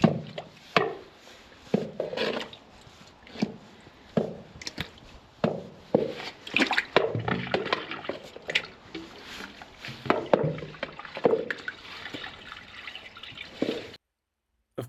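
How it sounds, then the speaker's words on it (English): A pry bar knocks and scrapes at a sewage blockage in a drain while flushing water splashes and drips. The impacts come as irregular, close, fairly loud clunks and chops spread over the whole stretch, with no one talking. "we're going to use the pry bar to break up this sewage, do lots of flushing"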